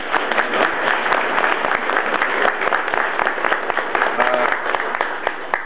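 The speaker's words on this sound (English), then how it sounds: "Give him a round of applause." Lively applause at a wooden boat museum in Winterton, a close, dense round of clapping from a gathered crowd that carries on steadily for several seconds with individual claps standing out.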